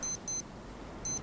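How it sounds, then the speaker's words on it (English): Faint high-pitched electronic beeps in the survival game Stranded Deep, two quick beeps then a pause and a third, over quiet background. "The beeping distracted you."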